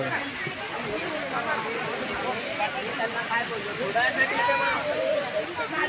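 Garambi waterfall in Konkan, near Murud Janjira, sends up a broad, continuous rushing hiss of falling water, and excited voices talk and shout over it throughout.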